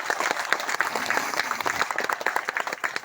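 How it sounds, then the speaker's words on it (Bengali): An audience at a gathering claps loudly together on cue. The applause is dense and rhythmic, with individual sharp claps standing out, and it starts to thin toward the end. "আপনাদের সম্মানার্থে চাইবো সবাই মিলে একবার জোরে হাততালি হবে।"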